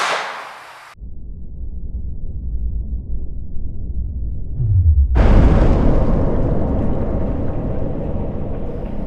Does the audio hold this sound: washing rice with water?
no